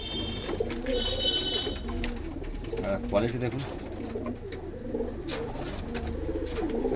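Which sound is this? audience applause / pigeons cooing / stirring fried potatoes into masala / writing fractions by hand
pigeons cooing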